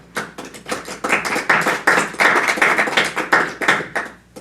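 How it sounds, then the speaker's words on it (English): Applause breaks out at a township council meeting, a small room of people clapping close and loud in a quick, uneven patter that keeps going throughout. "So I would love to give them a big round of applause"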